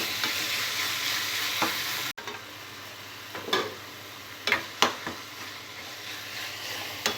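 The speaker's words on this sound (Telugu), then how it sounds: "పచ్చిమిర్చి పచ్చివాసన పోయే వరకు బాగా ఫ్రై చేసుకోవాలి." Green chili paste and turmeric fry in a pan for an aloo tomato curry, giving a steady close sizzle with a few sharp stirring scrapes and taps.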